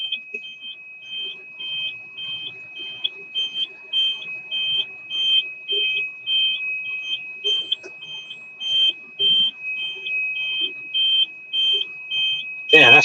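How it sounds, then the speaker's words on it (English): An old truck's air brake system, with air pressure not yet built up, sounds a steady series of loud, rapid high-pitched beeps or buzzes while the truck backs up, with faint background noise and a sharp burst at the end. "Y'all hearing the brake mechanism. The air pressure ain't built up."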